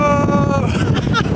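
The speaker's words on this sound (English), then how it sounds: "This wind is insane!" Strong desert wind gusting against the microphone in the open near San Pedro de Atacama, a loud, steady roaring buffet with shifting surges across the whole clip.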